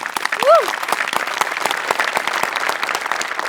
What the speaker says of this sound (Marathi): तो हेअर मेकअप आणि कॉस्ट्युम डिपार्टमेंटसाठी पण एकदा टाळ्या